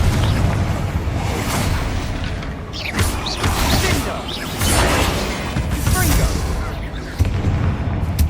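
Spell blasts from Confringo and Bombarda in the Hogwarts Legacy video game, a run of booming, crackling explosions and mechanical clatter layered densely together, loud and continuous throughout.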